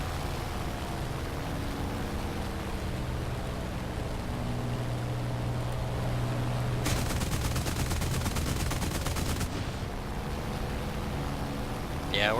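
Bf 110 aircraft guns in War Thunder fire in a rapid, continuous burst lasting a few seconds, over a steady loud engine drone that runs before and after the volley.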